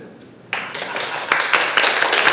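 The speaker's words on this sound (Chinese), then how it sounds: "来宾掌声" Guests in a classroom lecture on insects break into applause after a student's report. It starts suddenly after a short quiet moment, then builds into dense, moderately loud clapping that continues to the end.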